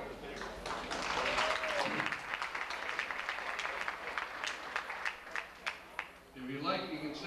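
Audience applause in a hall at a comedy show, a broad wash of clapping that gives way to scattered individual claps, with someone talking over and after it.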